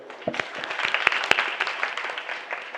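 An audience at a kirtan applauding, a dense patter of many hands clapping with a few sharp individual claps standing out, moderately loud and sustained throughout.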